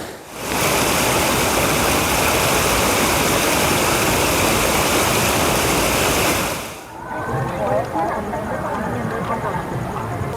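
The Narmada river rushes beside a bridge in a loud, steady roar of flowing water that dips briefly near the end, then continues with a slightly changed texture.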